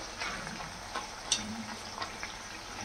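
Banana chips fry in hot oil over a high flame, giving a faint, steady bubbling sizzle with a few soft pops and stirring taps.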